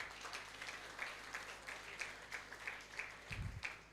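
Faint, distant applause fills a church service, a continuous patter of clapping with no distinct voices over it, and a brief low thump near the end.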